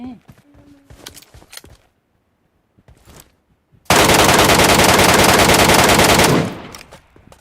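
A long, loud burst of automatic gunfire in the Metro Royale shooter game erupts after quieter moments of movement and scattered sounds, then cuts off abruptly.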